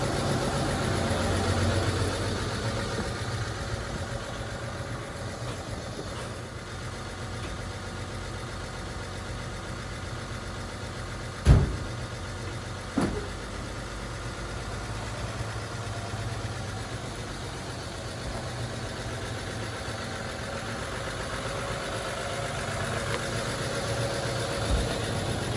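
A 1953 Chevy truck engine idles steadily after start-up, a constant low rumble close by, broken only by two brief sharp knocks midway.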